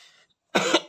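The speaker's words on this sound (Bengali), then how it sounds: "সরি একটু কাশি পেয়েছিল।" A single cough bursts out during a maths lesson, a loud harsh burst followed by a second shorter cough right after a brief quiet pause.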